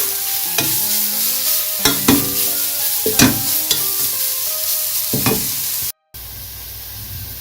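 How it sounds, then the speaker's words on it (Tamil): Grated sweet potato sautéing in hot ghee, with a close, steady sizzle broken by repeated clanks and scrapes of stirring, then a sudden brief cut to silence and a quieter, thinner hiss. "இப்போ ஸ்வீட் பொட்டேட்டோவை ஒரு 5 மினிட்ஸ் நல்லா நெய்யிலேயே வறுத்தாச்சு"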